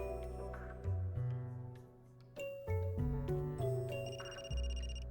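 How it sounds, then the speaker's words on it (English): A mobile phone rings in the video game Another Code R: Journey Into Lost Memories, a chiming, tonal ringtone that rises over soft background music and brightens toward the end. "That's my phone."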